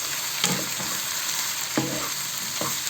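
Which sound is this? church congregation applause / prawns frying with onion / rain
prawns frying with onion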